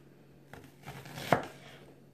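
A knife chopping vegetables on a board while corn salad is prepared at home, a few soft, quiet cuts capped by one sharper, louder chop.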